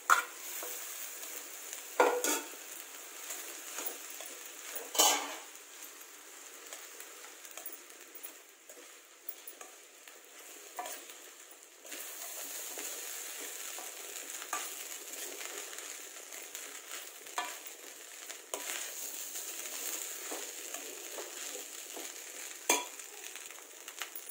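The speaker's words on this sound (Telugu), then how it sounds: "ఇప్పుడు మనం ఈ రైస్ వేసుకుని కలుపుకుందాం." Millet rice being stirred into cooked carrots in a pan: a steady soft scraping and faint sizzle run throughout, with a few sharper knocks of the spoon against the pan, close and alone.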